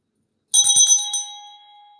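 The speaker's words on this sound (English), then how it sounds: "let's ring the bell" Single bell struck once during a spiritual ritual to call on ancestors, a bright ringing strike that sustains a clear tone and slowly fades, heard alone.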